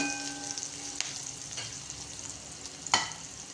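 Green chilies sauté in oil with asafoetida in a pan for okra bhaji, a quiet steady sizzle with a few sharp clinks of a spatula against the pan.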